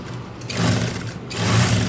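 A sewing machine stitches a folded 1 inch fabric strip in two short close bursts of rapid even whirring, separated by a brief pause.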